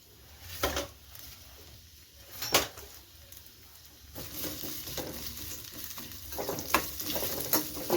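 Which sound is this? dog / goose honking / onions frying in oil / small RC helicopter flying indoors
onions frying in oil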